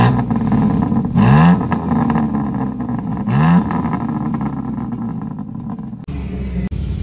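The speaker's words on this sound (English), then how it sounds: "rev it up, let that cop hear it" Kia Stinger with a twin-turbo engine revs hard twice, each rev a loud rising roar that falls back to a rumbling idle, heard up close outdoors with no talk, followed by a sudden change in background noise near the end.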